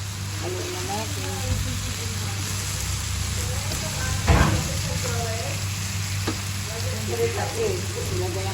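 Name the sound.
stirring bottle gourd with sardines in a pan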